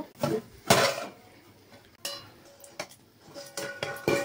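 A pot of prawn dum biryani comes off the stove, with several close metallic clanks and scrapes of the pot and lid against the burner grate, separated by short quiet gaps.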